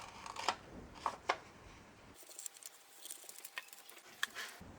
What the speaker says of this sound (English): I'm going to cut that out